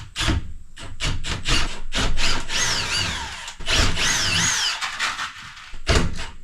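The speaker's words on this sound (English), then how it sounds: "Now we're gonna drill." A power drill bores holes for a 30 amp trailer power inlet, loud and close, with whining bursts of cutting separated by short pauses.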